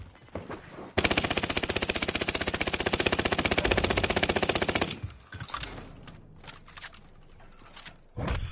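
Sustained automatic gunfire in the video game Warzone, a loud rapid burst lasting about four seconds, followed by scattered quieter shots and game noise.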